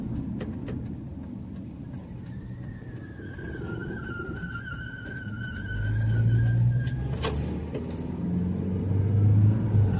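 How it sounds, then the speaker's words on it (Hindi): Car driving on a main road in Saudi Arabia, a steady low engine rumble and road noise from inside the vehicle, swelling louder toward the end, with a faint whistling tone in the middle. "अभी यहाँ पे मेन रोड पे गाड़ी चलाते हैं"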